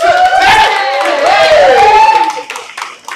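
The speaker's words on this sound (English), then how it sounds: "Give her a hand clap." A live city tour audience claps steadily and fairly loudly, with voices cheering and calling out over the applause before it thins toward the end.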